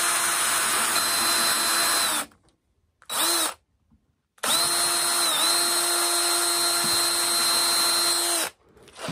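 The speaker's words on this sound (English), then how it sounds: "Now I'm going to drill this one out, and on the wood, it does have a tendency to slip" Power drill boring into a wooden walking stick, a loud steady whine in long bursts with a short burst and brief pauses between, close up and with no talk.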